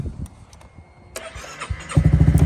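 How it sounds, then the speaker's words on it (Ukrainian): A 2019 Honda Forza 250 fuel-injected scooter cranks with a short whir and catches, then settles into a close, rapid, pulsing idle. "Так, заводиться він з задніх, мабуть."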